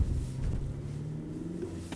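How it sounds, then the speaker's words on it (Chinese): A Porsche Cayenne Coupe plug-in hybrid, running on a nearly empty battery, drones under throttle with a steady, low, continuous engine hum from inside the cabin. "这一给油发动机呜呜的这个声"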